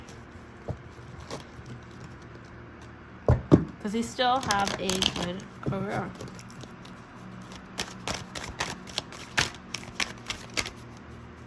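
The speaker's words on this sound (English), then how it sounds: "Let's go ahead and shuffle." A deck of cards is riffled and shuffled in a dense, fluttering run, followed by scattered light taps and snaps, while a person speaks briefly.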